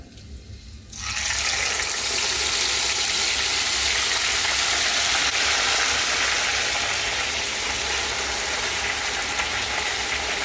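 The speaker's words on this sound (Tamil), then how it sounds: "பீன்ஸ் பொரியுது" Beans frying in a pan with a little water, a loud, steady broadband sizzle that bursts on after about a second of quieter background and holds evenly to the end, with no talk.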